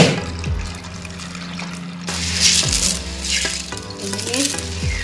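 Dirty hydroton clay balls being washed in water, with sloshing, stirring and rattling of the pebbles against each other and the container, intermittent splashes over a steady watery churn.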